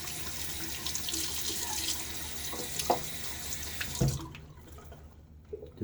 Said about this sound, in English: We kind of have rinsed off the outside.